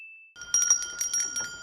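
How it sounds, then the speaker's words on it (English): A bell rings in a One Piece anime scene, a steady high tone, then repeated bright chiming strikes with a faint rattle, moderately loud and alone. "the bell has been ringing for about 60 seconds now"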